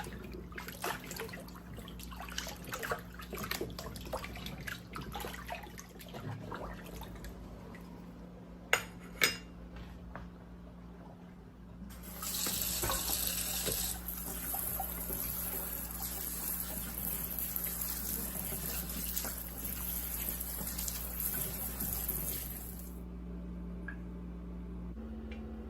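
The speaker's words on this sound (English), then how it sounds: "Just want to gently rinse off this dirt." Water rinses dirt off freshly harvested carrots, with soft splashes and handling noises at first and then a steady, hissing stream of running water that carries on for about ten seconds before easing off.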